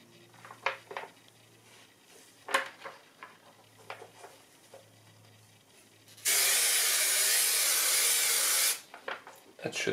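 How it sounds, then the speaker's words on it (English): Spray glue hisses from an aerosol can in one loud, continuous burst of about two and a half seconds, preceded and followed by scattered small clicks and handling taps. "spray somewhere else just to get the glue going, and not that much glue"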